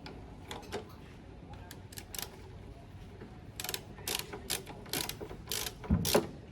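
A socket wrench ratchets a bolt on a motorcycle during a pre-ride check: faint, irregular clicking bursts that grow denser and louder toward the end, close up over a quiet background hiss.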